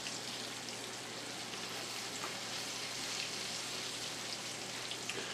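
Batch of floured squirrel pieces frying in a pan, a steady close sizzle and crackle of hot oil running continuously with no talking.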